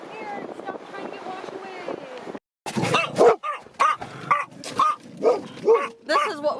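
A dog on a beach trip barks and growls at other dogs, first a low grumbling stretch, then a brief gap followed by a run of sharp, loud barks in quick succession, close by, with wind buffeting the microphone.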